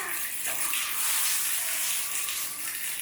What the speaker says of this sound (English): So we've got some water dripping in here now.